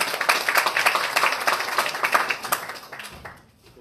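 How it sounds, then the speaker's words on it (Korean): Audience applause welcoming a lecturer to a coding-education talk at a school in Mokpo: dense clapping from a crowd that holds steady for about three seconds, then fades out quickly. "큰 박수로 강사님 환영해 주시기 바랍니다"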